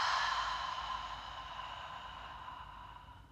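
A long open-mouth exhale during a thoracic mobility breathing exercise, a breathy airy rush that starts strongest and slowly fades over a few seconds, heard close and alone.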